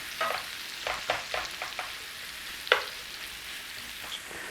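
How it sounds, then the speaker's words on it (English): Onions sautéing with pork in a pan for a Normandy pork and cider dish, a soft continuous sizzle broken by several sharp spatula scrapes and clatters. "So start to saute those in there."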